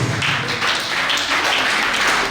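A crowd applauds at a journalists' union congress in Anambra, a dense, loud and steady wash of many hands clapping without a break.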